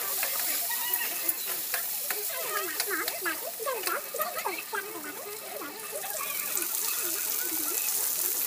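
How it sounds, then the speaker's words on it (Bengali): Sliced potatoes sizzle and crackle in a frying pan with a steady hiss, while a voice talks over the cooking sounds throughout. "আলুটা আমি ভাজবো"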